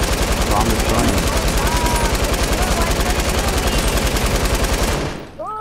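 Rapid sustained automatic gunfire in a Fortnite match, a steady rattling burst of shots aimed at a built base, loud and continuous for several seconds before stopping abruptly.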